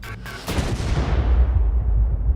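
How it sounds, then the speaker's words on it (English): A bomb blast in a dramatized wartime assassination attempt bursts suddenly after a few sharp cracks, then rolls into a long, heavy low rumble that fills the rest of the clip. "the bomb detonates"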